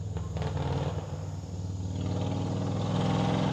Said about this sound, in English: Motorcycle, I guess.